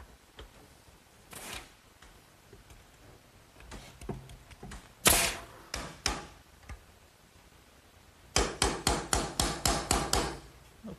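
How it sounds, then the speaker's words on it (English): Hammer driving nails to toe-nail a wooden spacer on a garden swing: scattered single blows give way to a fast, steady run of about ten ringing strikes, close and loud with no talking. "this spacer that I just toe-nailed in is simply there to keep these hangers from moving in"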